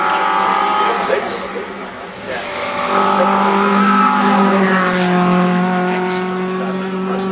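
Classic Alfa Romeo saloon or sports car from the pre-1975 class climbing the Shelsley Walsh hillclimb, its engine note rising steadily as it approaches, loud and sustained throughout, with a commentator talking over it.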